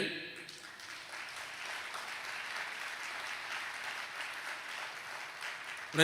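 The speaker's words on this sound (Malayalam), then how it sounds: "ഒന്ന് കൈയടിച്ച്" A church congregation applauds during a priest's sermon, a full, steady wash of many hands clapping that holds for several seconds before fading at the end.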